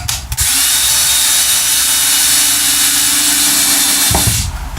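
A power drill drives 2-inch screws into wall backer behind a faux rock wall in a Forest River Cherokee travel trailer, giving one steady, loud, close whine of about four seconds that cuts off abruptly.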